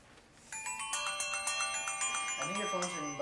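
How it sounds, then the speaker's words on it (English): A telephone ringtone plays a bright, repeating electronic melody, starting abruptly after a short pause and continuing steadily at moderate volume, with a few sliding tones near the end. "I think your phone's ringing, Bob."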